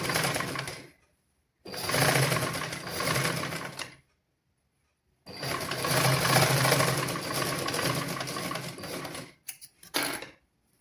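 A sewing machine stitches a seam on a child's garment during a basic tailoring lesson. It runs in two long bursts with a brief stop between them and a short spurt near the end, steady and close, with no voices.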